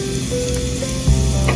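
Cumin seeds sizzling in hot oil in a pressure cooker: steady loud crackling fry noise close up, with a brief stirring clatter near the end and no talk.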